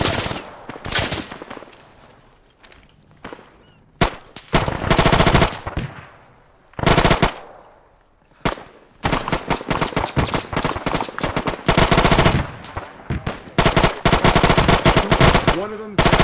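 Heavy automatic gunfire in a military video game set in Belorussia, with loud repeated bursts and long machine-gun volleys broken by short gaps, close and dominant, while players shout over it.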